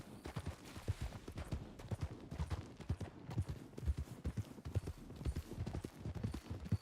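Horse hooves clip-clopping on the ground in a Red Dead roleplay video game, a steady rhythmic run of close, crisp hoof beats, largely alone.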